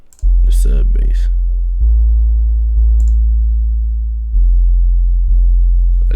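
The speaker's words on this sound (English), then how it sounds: "Just how the bass sound without the distortion." A clean 808 sub bass with no distortion, programmed in FL Studio for a club-style beat, plays as deep sustained booming notes that shift pitch in a few separate steps, alone with a faint click at the start.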